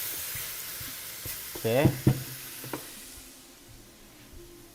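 Soft sizzling of meat in a frying pan with some stirring and scraping; a voice briefly says a word over it, and the sizzle fades to a quieter hiss.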